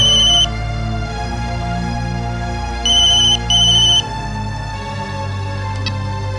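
Electronic telephone ringtone in a Tamil TV serial, a beeping ring that sounds in short bursts separated by gaps, loud and clear over a low background hum, with no talking.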